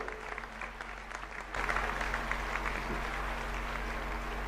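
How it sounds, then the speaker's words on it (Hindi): A crowd at a Jain Panchkalyanak gathering in Guwahati applauds to welcome the Governor, a dense, steady roar of clapping that swells noticeably louder partway through and holds. "कृपया जोरदार तालियों से महामहिम राज्यपाल साहब का"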